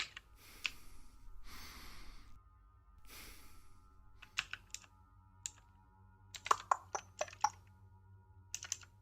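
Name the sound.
low-stamina breathing sound effect, Cataclysm: Dark Days Ahead video game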